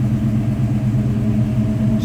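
A deep, steady Chevrolet 350 V8 exhaust rumbles at idle on a 1987 Chevrolet Silverado K10 4x4, low and throaty, with a constant even burble close by.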